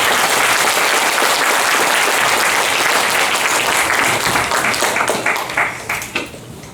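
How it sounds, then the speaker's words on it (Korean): Big round of audience applause at an academic conference, loud dense clapping from a hall full of attendees that holds steady and then tapers off into scattered final claps. "오늘 수고해주신 이경주 청년교도 그리고 전두현 교수님께 다시 한번 큰 박수 부탁드립니다."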